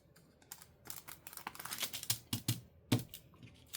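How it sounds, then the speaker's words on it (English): Paper is carefully ripped on a crafting desk, a string of quick crinkly tearing bursts that build in close, irregular spurts, fairly quiet and with no talking. "Now let's just carefully rip that off."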